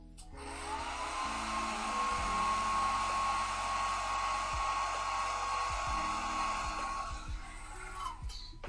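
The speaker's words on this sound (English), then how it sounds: "Let me hit it with hairdryer real quick." A hair dryer drying an HO scale model diesel locomotive whirs loudly and continuously with a steady high whine, a few soft knocks underneath, then shuts off at the end.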